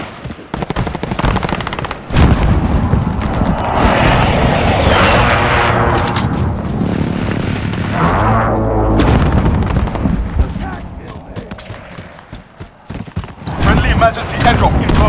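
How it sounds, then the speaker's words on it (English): A barrage of booming blasts and rattling gunfire from Modern Warfare, an enemy precision airstrike in a match, rolls through heavily for several seconds, then thins to scattered shots, with voices in the mix. "Enemy precision airstrike."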